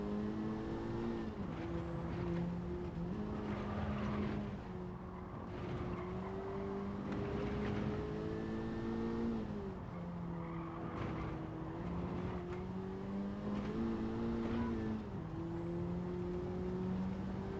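A race car in a sim racing game held at full throttle, its engine droning steadily with rising and falling gear pitches and tire squeal, fairly quiet and continuous throughout with no talk.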